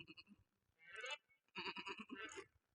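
A comedian's voice imitates a goat's bleat during a stage comedy act, producing two loud, wavering nasal bleating bursts separated by a brief pause, close and alone.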